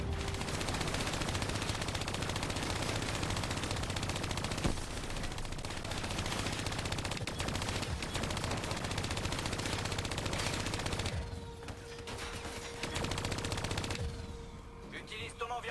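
Rapid turret gunfire in the Call of Duty Black Ops III shooter on PS4, a dense, loud automatic barrage running almost nonstop, with a short lull near the end before the firing resumes.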